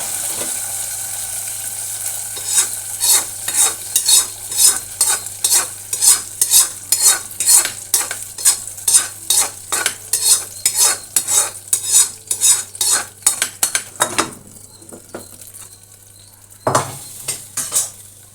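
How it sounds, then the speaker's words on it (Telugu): Asafoetida tempering poured into cooked rice for katte pongal, heard as a long run of rhythmic stirring and scraping strokes with faint sizzle, steady and close, then a pause and a final stroke. "బియ్యం ఉడకబెట్టాం కదా, ఇందులో ఆ తాలింపు వేసేయడమే."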